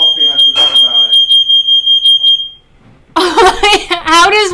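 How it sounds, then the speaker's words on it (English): A household smoke alarm, triggered by coffee left boiling on the stove, beeps in a rapid, piercing, steady series close by, with a voice talking over it before it stops and people keep talking. "How does one make the fire alarm go off making coffee?"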